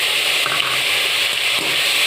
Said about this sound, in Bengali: ওই তেলে একটু সাদা জিরে ফোড়ন দিয়ে একটা মাঝারি সাইজের একটা টমেটো কেটে দিয়ে দিচ্ছি